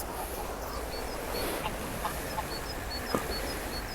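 Ducks quack now and then at a park pond in Germany. The calls are faint and scattered under steady outdoor background noise, with a few high bird chirps.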